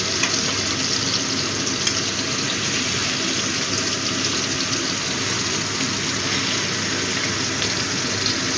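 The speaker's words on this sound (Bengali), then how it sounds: "এই এক পাশ 30 সেকেন্ড মতো, 25-30 সেকেন্ড করে ভেজে নেব, নাহলে বেশি ভাজলে চিংড়িটা একদম রাবারের মতো হয়ে যাবে" Prawns frying in hot oil give off a continuous, even, loud sizzle with fine crackling texture that holds steady close by for nearly nine seconds, with no talking over it.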